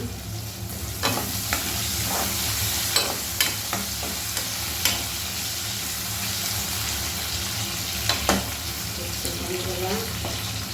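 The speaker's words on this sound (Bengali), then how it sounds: "আমি এখন বেগুন পোড়াগুলা রেডি করছি।" Roasted eggplant (begun pora) pieces being prepared in a pan without spices, giving a steady close sizzle with scattered stirring and scraping clicks throughout.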